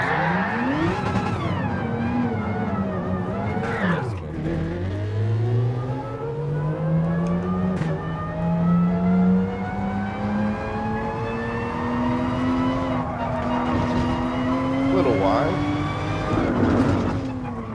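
Race car lapping the Nürburgring in Gran Turismo Sport, its engine note climbing and falling steadily through gear changes, loud and continuous for the whole stretch.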